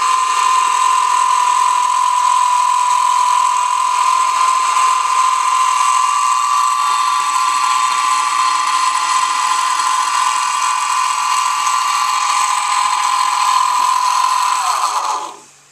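A machine tool takes cuts on a small model caster part, a loud, steady high-pitched whine of cutting that holds evenly for about fifteen seconds before winding down at the end.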